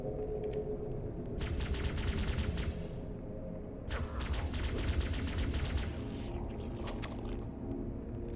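Shotgun blasts in Halo: Combat Evolved, two bursts of gunfire with crackling reports, followed by a few sharper isolated shots, all over a steady low background drone.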